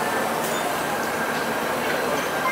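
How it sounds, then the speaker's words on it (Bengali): A train rumbles at Jaleswar railway station in India, a loud, steady roar of rolling wheels and engine noise throughout with faint metallic squeals. "তো এখন আমরা দাঁড়িয়ে রয়েছি জলেশ্বর স্টেশনে।"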